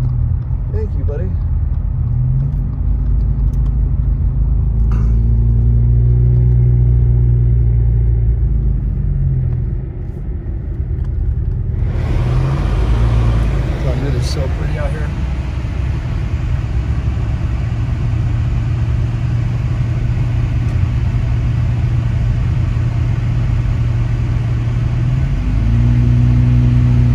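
A car driving along a snowy road through Big Bear Lake during heavy snowfall, its steady engine rumble and road noise continuous and close throughout, with a voice talking over it.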